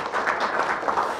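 An audience applauds at a National Assembly forum on improving overtime rules for public servants, a short burst of steady, moderately loud clapping with no talk over it.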